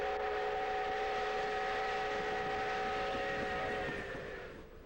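A steam locomotive on a railway, its whistle blowing a long, steady, loud multi-tone blast that fades slightly at the end, with rumbling underneath.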